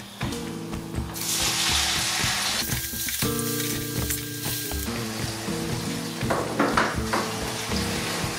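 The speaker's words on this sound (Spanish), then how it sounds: "me da mucho miedo el aceite hirviendo. Y meter las patatas" Sliced potatoes for a Spanish potato omelette fry in hot oil over high heat, giving a loud, steady sizzle and crackle throughout, with brief clinks and stirring noises partway through.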